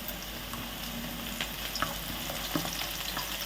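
Curry leaves crackle and fry in hot oil for a Telangana-style fish curry, a continuous close sizzle with scattered small pops and light stirring clatter.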